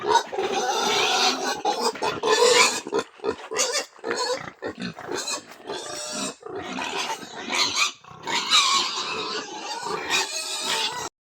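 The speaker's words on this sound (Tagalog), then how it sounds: "gutom na ang mga baboy" Hungry pigs grunt and squeal loudly and repeatedly, close by, in overlapping bursts throughout with brief pauses.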